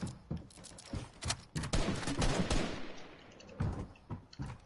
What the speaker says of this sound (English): They're all just shooting at me.